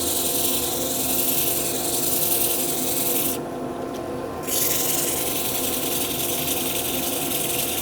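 A wood lathe spins at about 700 with compressed air on while 150-grit abrasive is held to the turning piece for a chopstick or rice bowl project, giving a loud continuous rubbing hum that briefly changes tone midway.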